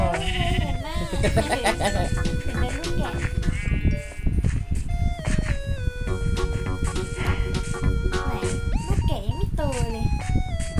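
Minecraft sheep bleat repeatedly in wavering, overlapping cries, with a person talking over them and some background game music or sound effects.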